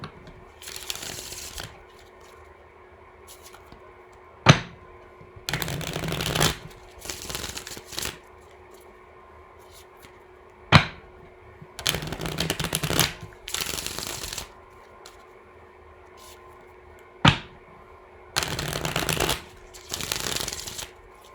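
A tarot card deck is shuffled again and again, with rapid riffling bursts broken by sharp taps as the cards are squared, then quieter gaps between rounds.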